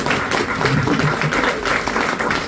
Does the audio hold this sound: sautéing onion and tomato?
no